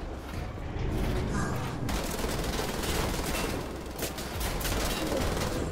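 Dense, continuous gunfire from Wolfenstein: The Old Blood, a steady loud barrage of rapid shots with explosive bursts that carries through the whole stretch without letting up.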